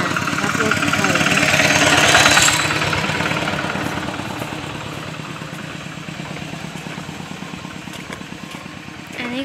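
A walking tractor engine chugs at a steady idle-like rhythm nearby in a rural field, loud at first and then easing slightly, with a voice talking over it.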